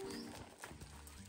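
A horse out on a walk, its hooves clip-clopping in a few close, uneven steps against faint background noise, with a possible brief whinny at the start.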